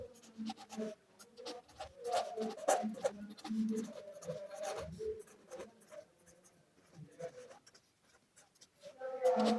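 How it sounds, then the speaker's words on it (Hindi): Notes being written by hand during a physics lecture on rotational motion, soft pen or chalk scratching and tapping in irregular strokes, fairly quiet against a room background with faint voice-like sounds. "तो लिख लेते हैं।"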